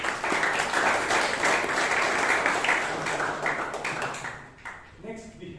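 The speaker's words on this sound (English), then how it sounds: "Let us give a louder applause to both the speaker and the evaluator." A meeting audience at a Bangalore Toastmasters club claps loudly and steadily for a speaker and an evaluator. The dense crowd applause fills the room, then thins and fades over the last second.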